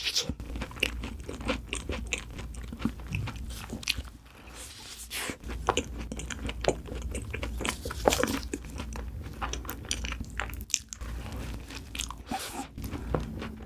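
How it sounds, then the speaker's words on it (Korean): Close-up biting and chewing of a vanilla cookie choux pastry, with crisp crunches of the cookie crust giving way to steady, moist mastication and soft squishy sounds that continue throughout. "쿠키슈도 치즈슈, 바닐라슈, 초코슈 사왔는데 먹을 수 있는 데까지 먹어볼게요"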